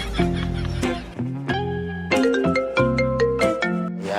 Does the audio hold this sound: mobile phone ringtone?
yes